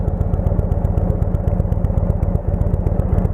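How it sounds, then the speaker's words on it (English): A vehicle engine pulls away in first gear from a coffee shop, a steady, close, throbbing low rumble with rapid regular firing pulses that continues unbroken throughout. "Engine running, camera's running, in first gear."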